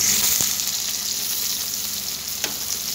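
Chopped onions fry in oil for a fish curry, an even bright sizzle running throughout with a couple of brief clicks from stirring.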